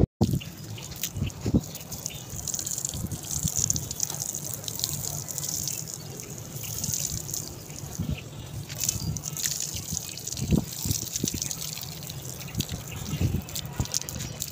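Water sprays and splashes steadily while someone cleans bricks, a continuous hiss and spatter with occasional drips and knocks throughout, close and moderately loud.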